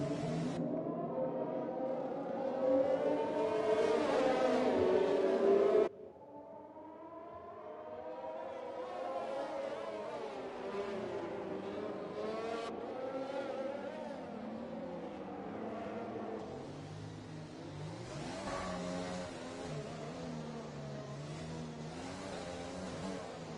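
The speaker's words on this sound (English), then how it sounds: "the safety car is coming in at the end of this lap" Formula 1 cars race around Monaco in F1 2020, a loud, sustained engine whine that rises and falls in pitch as cars pass and shift, continuous and without talk, briefly dropping in loudness partway through.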